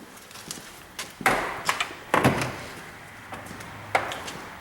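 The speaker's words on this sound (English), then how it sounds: "Mo, can you grab the front door?" The front door of a 1955 Studebaker Commander is worked, giving several sharp metallic clunks and latch clicks at close range, spread unevenly over a few seconds.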